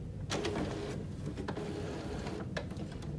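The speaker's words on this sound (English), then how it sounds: "Give the printer a second to relocate the ink cartridges" An HP inkjet printer, a model taking HP 902 or 564 ink, shuttles its cartridge carriage with the cover open, giving a steady mechanical whir broken by several short sliding clacks, close and continuous.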